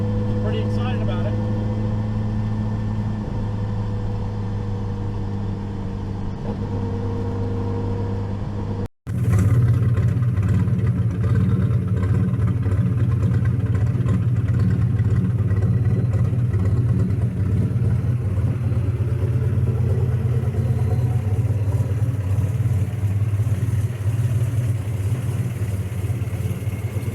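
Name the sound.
Nissan Z car engine after new downpipe, test drive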